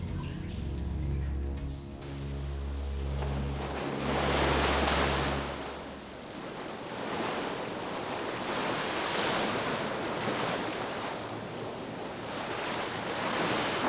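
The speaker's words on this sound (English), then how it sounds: "That's our sewage treatment works." Water rushes continuously at a London sewage treatment works, a broad, steady roar like surf with gentle swells in loudness, following a short low mechanical hum at the start.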